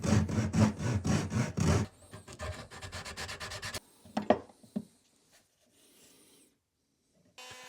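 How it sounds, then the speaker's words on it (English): A handsaw cutting a slot for a riving knife in wood, with rapid rhythmic back-and-forth strokes, strongest at first, then lighter, faster strokes before fading into a few faint scrapes and near silence. "then cut it out using a handsaw"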